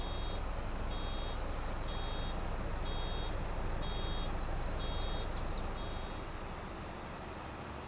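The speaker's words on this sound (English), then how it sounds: "it's the truck that's beeping. It's almost full" Repeated electronic beeps from a truck's full-load warning in the Farming Simulator 22 video game, sounding at a steady rhythm over a constant engine drone, with the beeping stopping near the end.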